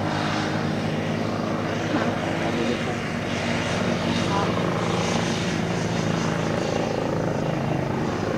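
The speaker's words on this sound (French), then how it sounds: "on a un hélicoptère qui passe" A helicopter passes overhead with a steady, loud rotor and engine drone throughout, while people talk underneath it.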